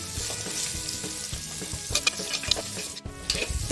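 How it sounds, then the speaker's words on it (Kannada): Chopped vegetables and green chillies fry in hot oil in a pan for oats kichidi, with a continuous sizzle and the scrape of a spoon stirring, close and fairly loud, with no voices. "ವೆಜಿಟೇಬಲ್ಸ್ ಎಲ್ಲ ಸಾಫ್ಟ್ ಆಗೋವರೆಗೂ ಫ್ರೈ ಮಾಡ್ಕೊಳ್ಳಿ"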